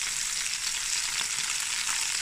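Roughly chopped onions and garlic cloves frying in a pot for oxtail stew over lowered heat, a steady, dense close-up hiss of sizzling that holds even throughout with no voices.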